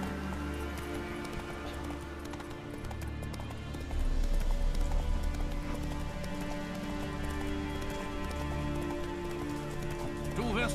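A horse gallops in the video game The Witcher 3 Wild Hunt, its hooves making a rapid, steady clip-clop under a continuous layer of game music and ambience.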